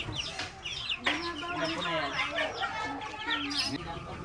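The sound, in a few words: chicken clucking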